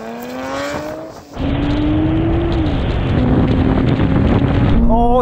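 Nissan GT-R cars drag racing roar with a loud sustained engine drone that climbs in pitch through the gear changes. Heavy wind rush sits over it, and a short dip comes before full acceleration.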